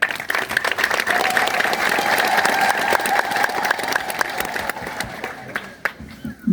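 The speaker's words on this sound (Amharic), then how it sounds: "ያለው ሰውና ጭብጨባው የተመጣጠነ ይመስላል።" A large indoor audience at a church gathering claps steadily in a dense, sustained burst that fades out near the end.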